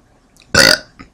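A single loud burp lasting about a quarter second, close and clear against near silence, followed by a brief faint vocal sound.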